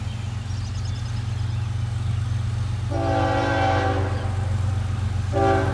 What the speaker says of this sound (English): Maybe we'll finally get a long train.